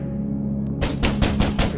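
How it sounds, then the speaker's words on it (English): A loud bang at a door in the video game The Pale Beyond comes as four or five heavy, rapid knocks after a quiet, humming start. "There's a loud bang at your door"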